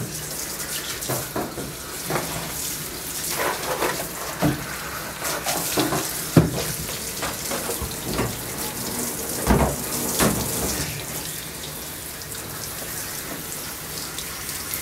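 Running water from a tap splashes steadily while a Pomeranian dog is bathed during grooming, with irregular louder splashes and drips over a continuous wash and no talking.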